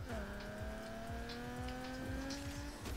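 Nissan 350Z engine in the racing game Need for Speed Underground 2, a steady loud drone that climbs gradually in pitch as the car accelerates, with brief tire noise and game sounds layered over it.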